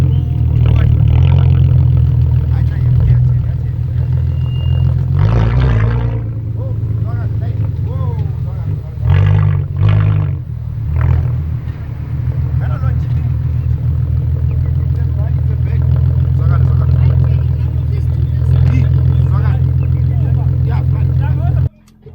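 A VW Jetta VR6 launches in a drag race, its engine a loud, constant low drone with sharper revving bursts rising and falling along the way, while voices talk over it.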